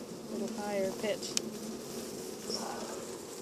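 Honey bees swarm around an open hive with a slightly raised, whining buzz, a continuous close drone with brief higher insect tones passing near the microphone.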